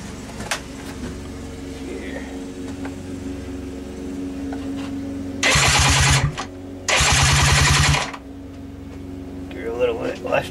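An old vehicle on choke starts with a cranking burst, then idles and revs with a loud, rough steady run. An earlier idle hums underneath while someone talks over it.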